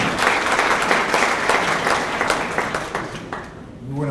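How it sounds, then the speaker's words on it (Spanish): An audience at a forum on personal data protection in justice and security breaks into loud, dense applause that carries on steadily before fading out at the end, with a voice starting up as it dies away. "Un aplauso, por favor."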